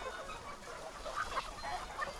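Farm chickens, fed on insect larvae, cluck and cackle in scattered bursts across a quiet, distant-sounding coop, the calls soft and overlapping with no speech.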